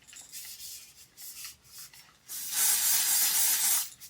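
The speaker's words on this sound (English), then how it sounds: "And some spray." Hair spray hisses from a can onto a styled layered wig unit, a few short bursts at first, then one longer, louder continuous spray close to the listener.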